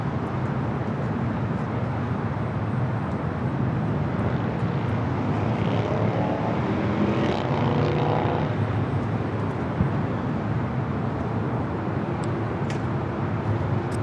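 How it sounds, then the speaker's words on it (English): A Boeing 777-300ER airliner arriving at Los Angeles airport gives a sustained broad jet roar that swells in the middle and then eases off, heard from a distance against constant airport background noise. "So back-to-back 777-300ER arrivals here on the north side momentarily. The EVA followed by British Airways."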